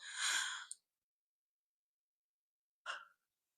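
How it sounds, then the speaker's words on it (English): A long breathy yawn-like exhale, soft and close, followed after a silent pause by a shorter breathy gasp. "I just had to yawn."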